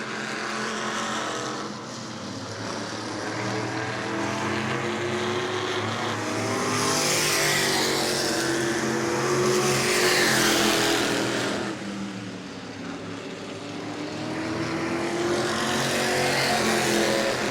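602 modified race cars race at New Smyrna, their engines forming a continuous loud roar that swells and fades as the pack passes, with no pauses throughout.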